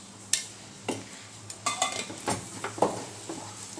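A spatula scrapes and clinks repeatedly against a pan while kalakand milk sweet is stirred with ghee, about a dozen uneven, close strokes over a soft background hiss, with no voices.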